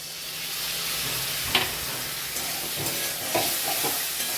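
Ginger-chili paste and tomato paste sizzle in a frying pan for a Bengali pabda fish curry, a steady close hiss of hot oil broken by a few sharp spatula scrapes and clinks.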